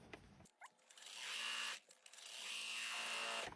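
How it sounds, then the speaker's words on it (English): Sewing machine understitching a lining to the seam allowance, two quiet whirring bursts of stitching separated by a brief pause, close and faint. "I sewed my lining to my excess seam allowance here."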